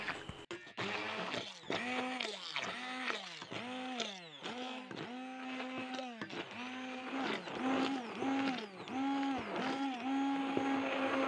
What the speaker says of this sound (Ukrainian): Я вирішила збивати погружним блендером, воно і так все гарно збивається.